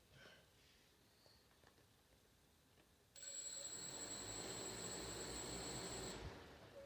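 Motors of a Xaircraft SuperX 650 V8 X8 multirotor drone start up after a stretch of quiet, holding a steady, close, high-pitched whine with tonal hum for about three seconds before fading down.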